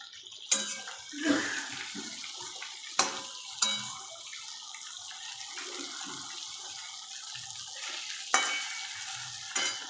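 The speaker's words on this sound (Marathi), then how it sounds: "आता हे आपण पाणी घेतलेलं होतं ना शेंगदाण्याचं, ते असं टाकून द्यायचं याच्यामध्ये." Peanut soaking water is poured into a frying pan of sizzling eggplant curry, giving a hissing splash and steady frying crackle with several sharp clatters from the pan across the stretch and no talk.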